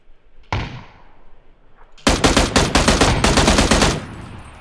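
In an online shooter game, a single loud shot cracks out, then a sustained rapid burst of automatic gunfire rattles on for about two seconds, close and dense, before cutting off.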